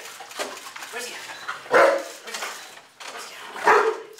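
Police K9 dogs of a city police department's K9 unit bark in loud, sharp bursts at close range, with shouting voices mixed in during a deployment.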